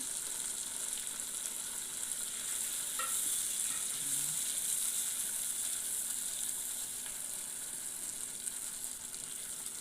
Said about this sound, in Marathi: आपला तो मसाला जो उरलेला आहे कांदा खोबऱ्याचा तो घालून व्यवस्थित परतून घ्यायचा आहे